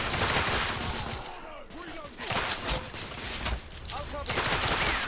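Rapid gunfire in the video game The Order 1886, loud volleys of shots and bursts crackling over each other, with shouted voices and combat chatter in the mix.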